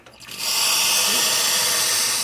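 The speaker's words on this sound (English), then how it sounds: "lots of good steam pressure there" A La Cimbali espresso machine steam wand lets out a sharp burst and then a steady, loud hiss of high-pressure steam, close by, with no talking.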